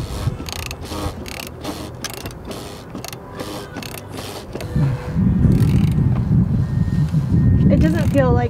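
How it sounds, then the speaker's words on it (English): A hand wrench tightens bolts during a big rig oil change, giving a quick series of rapid ratcheting clicks, then lower clunking and rubbing noises up close. "And we're just going to tighten them down."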